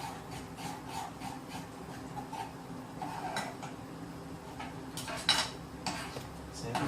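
A spoon stirs a thickening chocolate cream filling for a low-carb, gluten-free Prestígio pie in a pan, making repeated scraping and clinking strokes against the metal. The sounds are close and steady, with sharper scrapes toward the end.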